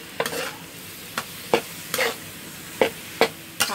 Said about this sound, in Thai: ผัดให้มันติดกันเหนียว